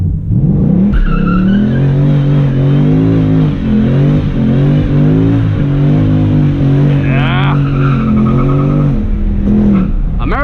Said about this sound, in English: let's do a little burnout here